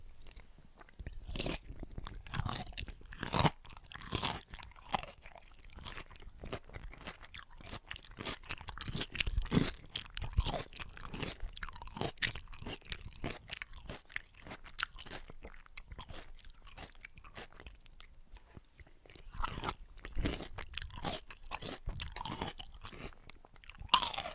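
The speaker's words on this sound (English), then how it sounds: "These eating sounds, I hope, are gonna be super crunchy" Close, crisp crunching as Greek salad with Kalamata olives is bitten and chewed, irregular bursts of crackling munching that continue steadily without any talking.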